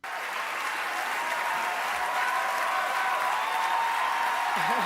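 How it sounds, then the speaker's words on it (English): A large audience applauds and cheers, a broad, steady roar of clapping that swells slightly and holds for about five seconds, with a voice briefly audible near the end. "The entire fucking place is cheering for her."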